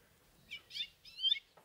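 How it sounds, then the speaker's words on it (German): Small bird call inserted as a sound effect in a radio play: a few quick, high chirps in short bursts against quiet. "dann packt man einfach so einen kleinen Vogel hin, denkt sich nichts Böses dabei"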